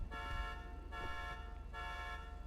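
A car horn honks in the Hydra Town roleplay game: a steady, fairly loud toot sounding in three long swells, with no voices over it.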